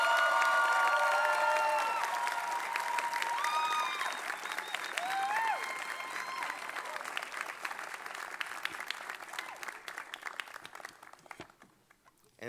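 Audience at a 2023 Master of Global Affairs graduation ceremony breaks into loud sustained applause with some cheering and whistles, gradually thinning into scattered claps as it fades out.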